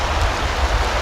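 Rainy-season rain falling in a rainforest, a dense steady hiss of downpour across a short moment, close and continuous with no voices.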